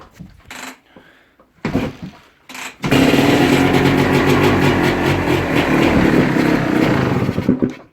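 A motorcycle is kicked over in a few short sputtering attempts, then catches and settles into a loud, steady, close-up idle with a rough, pulsing rhythm.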